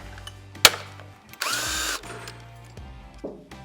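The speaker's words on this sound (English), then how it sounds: "That bolt a lot of times gets really tight, it just gets corroded in there, so I have to put a wrench on it." A wrench works a corroded, tight foot peg bolt on a Harley-Davidson Milwaukee-Eight Road Glide: a sharp metallic crack and ratcheting clicks, then a longer burst of scraping mechanical noise, with softer clunks of tools and parts nearby.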